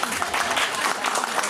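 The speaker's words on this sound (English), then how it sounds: "everyone please give a round of applause" A festival audience claps in a brief, fairly quiet burst of applause, the patter of hands blending with light murmuring voices.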